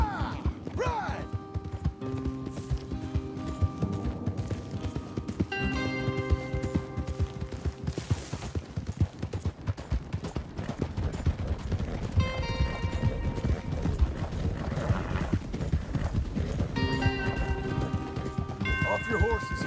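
Horses gallop in Red Dead Redemption 2, with rapid, continuous hoofbeats up close, occasional whinnies and creaking tack, under people talking and steady game music.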